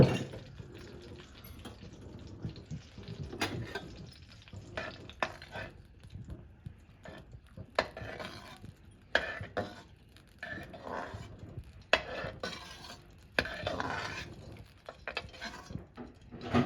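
Makhana (fox nuts) roasting in ghee in a pan are stirred, giving soft scraping and light rattling taps in an irregular rhythm, close and fairly quiet.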